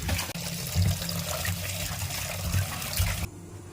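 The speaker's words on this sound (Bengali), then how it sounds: "ভালো করে আমি এটাকে আগে ধুয়ে নেবো আনাজ খোলাগুলোকে।" Running water rinses potato, pointed gourd and ridge gourd peels in a kitchen, a steady close splashing and pouring that stops abruptly near the end.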